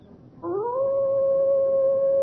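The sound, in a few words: hound baying, sound effect in audio drama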